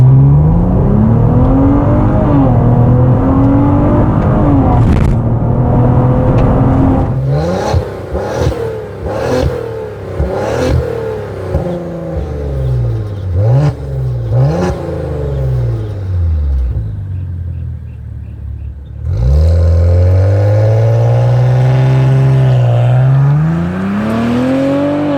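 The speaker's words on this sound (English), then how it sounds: "So hard on brake, press down the gas, let it build boost." A 2019 Maserati Levante Q4 SUV launches from a brake-torque hold: the engine builds revs, then the car surges from 0 to 60 with loud rising pulls and gear shifts, ending in another long climbing run.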